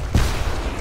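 A tank cannon fires in the WWII strategy game Sudden Strike 4 on a D-Day mission, one sharp, heavy, booming shot with a short reverberant tail, loud and close.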